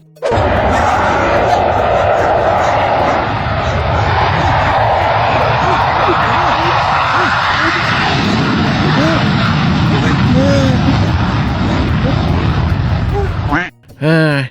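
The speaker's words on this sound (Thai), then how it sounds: "ได้ยินเสียงเครื่องบิน F16 ไทย" Loud, continuous roar of a Thai Air Force F-16 fighter jet passing overhead, rising and sustained for most of the stretch before cutting off abruptly near the end, with voices faintly under it.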